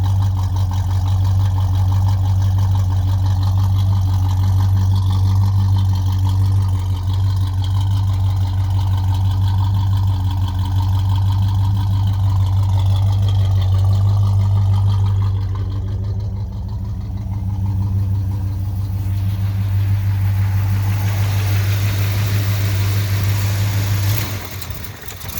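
A 1968 Pontiac GTO with a 400 HO engine idles loud through a Pro muffler exhaust, a deep, steady burble that holds close and even, then falls briefly near the end.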